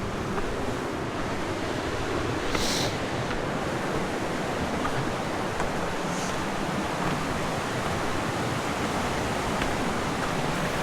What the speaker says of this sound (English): Oh yes, creek flowing very heavily over here.